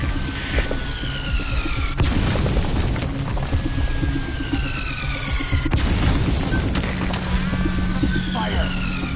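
Artillery shells explode in Metal Gear Solid V, two heavy, booming blasts a few seconds apart over a constant rumbling background, with voices talking throughout.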